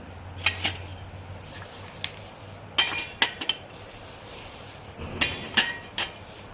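Small clay diya lamps set down one by one into a bowl, giving sharp ceramic clinks and knocks in irregular clusters, close and fairly crisp.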